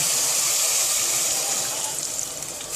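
Hot water from a just-boiled kettle pours steadily into a pot of lamb curry, a continuous hissing splash that holds at an even level and eases slightly toward the end, with no talking.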